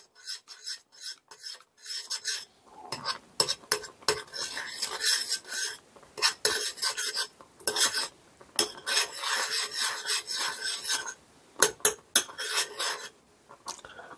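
Rice milk ingredients being mixed together, giving a steady run of rough rasping and scraping strokes in uneven bursts with short pauses, close and fairly loud, with no talking.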